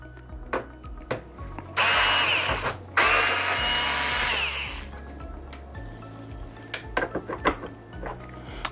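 A power screwdriver drills screws out of a PS5 console's outer casing in two loud, sustained whirring bursts, with lighter clicks and metallic handling of the small screws before and after.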